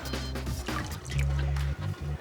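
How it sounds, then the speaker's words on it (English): A powerful shower runs with a steady, dense rush of water, loud and close, breaking briefly as the flow is interrupted near the end. "It is quite a powerful shower, so beware."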